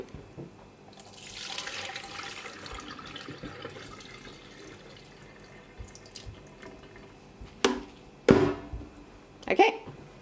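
Kitchen tap water runs during the rinsing step while cooking spaghetti bolognese. A soft, steady flow comes first, then louder splashing bursts arrive near the end, close by.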